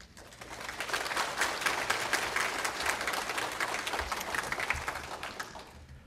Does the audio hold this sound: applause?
yes